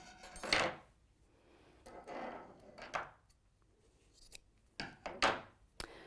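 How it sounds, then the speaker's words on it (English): Scissors cutting across a fabric seam during a dressmaking demonstration: several short, crisp snips and crunching cuts in separate bursts, close and fairly quiet in an otherwise still room. "so cut across that seam"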